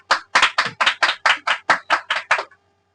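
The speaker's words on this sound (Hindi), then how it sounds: "आप परमेश्वर के लिए जोरदार ताली के द्वारा धन्यवाद कर सकते हैं।" Sharp, loud claps from a church congregation thanking God, about eleven evenly spaced strikes in a brisk steady rhythm, close and clear, then an abrupt stop into silence.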